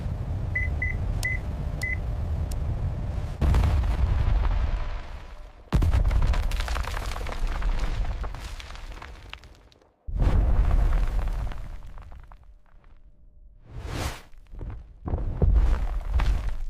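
Explosive rock blasting at a copper mine: a few high beeps of a warning signal, then a string of deep, heavy booms and rumbling bursts at intervals, loud and without talk.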